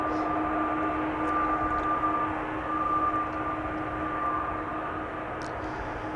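Airbus A330 jet at Amsterdam Schiphol Airport, a steady distant engine drone with a constant tonal whine, heard alone without voices.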